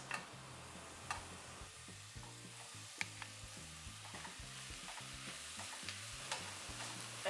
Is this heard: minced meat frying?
yes